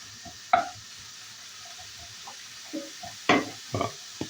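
Vegetables sautéing in a pan as they start to soften, with faint sizzling beneath a few sharp utensil stirs and scrapes, close and intermittent, no voices.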